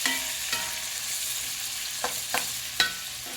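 Hamburger steak and onions frying in a pan, a constant close sizzle with a few sharp scraping taps of a spatula at uneven intervals, no talking.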